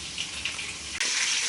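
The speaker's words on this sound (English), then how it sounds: "I've just filled this cup up now with the gravy mix with some water, cold water" Cold tap water gushes steadily into a cup for gravy mix in a home kitchen, with a loud hissing stream that brightens and intensifies partway through.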